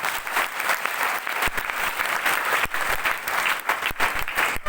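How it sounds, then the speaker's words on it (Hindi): Loud, dense applause from a seminar audience, sustained clapping filling the hall with steady uneven bursts throughout. "जोरदार तालियां होनी चाहिए"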